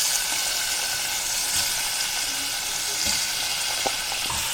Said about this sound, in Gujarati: હવે આપણે તેની અંદર ડુંગળી અને બટેટા નાખીએ છીએ.